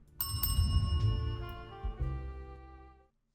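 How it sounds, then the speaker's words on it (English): A bell rings at a speakeasy in the game Best Served Cold: several bright metallic dings in quick succession, then a final strike whose ringing decays before stopping, clear and alone. "Right, ring the bell."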